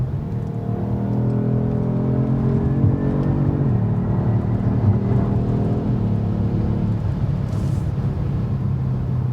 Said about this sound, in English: So I'm in 5th gear, I'm downshifting a little bit.